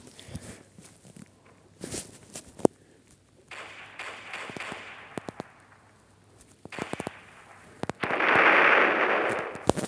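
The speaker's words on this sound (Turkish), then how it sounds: "patlamalar oluyor" Sharp, scattered bangs and pops from Roblox Brookhaven game explosions go off at uneven intervals, ending in a louder, rumbling blast.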